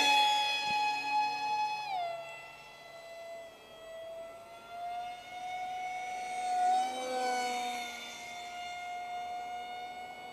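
An RC Powers F-16 V5 model jet with a Turnigy 2200 electric motor and a Master Airscrew 6x4x3 propeller whines through the air in flight, its high pitch sliding down and back up as it passes and turns, fairly loud throughout.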